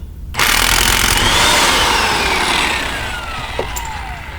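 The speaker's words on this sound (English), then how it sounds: "So I'm using an impact gun to take it out" An impact gun whirs loudly and continuously for about three seconds, removing an axle nut on a 2002 Toyota RAV4, its pitch gradually dropping as it winds down, with a brief metallic clink near the end.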